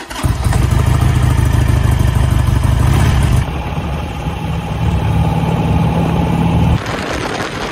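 A Harley-Davidson Sportster engine runs on a test ride, a loud, close, steady rumble that shifts tone partway through and again near the end.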